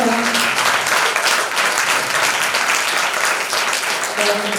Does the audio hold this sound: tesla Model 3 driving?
no